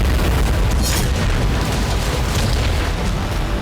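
A deafening, rumbling explosion from about 200 grams of TNT hidden in an electric scooter, heavy low boom sustained across the whole moment with dense broadband roar and no voices.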